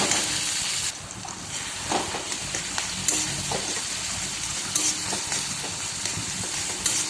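Tomatoes cooking down in a pan with bitter gourd and mustard paste, a steady close sizzle of frying with occasional scrapes and stirs, with no voices.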